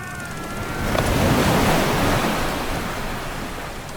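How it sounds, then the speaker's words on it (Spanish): A huge ocean wave rises behind a ship, heard as a broad roaring surge of surf and wind that swells to a peak and then slowly eases off, with no voices. "una ola, la más grande que Borongüe había visto en toda su vida, se alzaba justo detrás de ellos"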